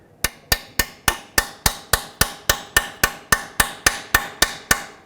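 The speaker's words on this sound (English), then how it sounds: "it'll bite onto the bolt as I hammer it on" Sharp metallic hammer blows strike in a steady, even rhythm, about fifteen hits in quick succession, each ringing briefly, as an extractor socket is hammered onto a bolt on a 2002-06 Toyota Camry oil pan.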